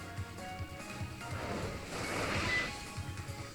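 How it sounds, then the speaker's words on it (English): In Pokémon Sun, water splashes and rolls continuously like surf, a soft, wide wash that swells slightly toward the middle before easing off. "Let's go ahead and investigate the splashes."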